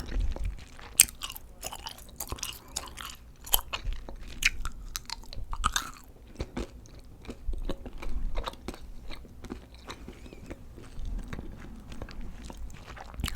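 Gum being chewed right at the microphone in close ASMR style, with repeated wet, sticky chomps and small clicks in an uneven rhythm over a quiet background.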